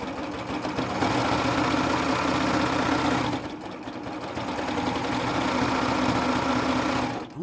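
A sewing machine stitches the side seam of a pair of shorts, a loud, fast mechanical whirring run that pauses briefly midway, then starts again and runs steadily before stopping.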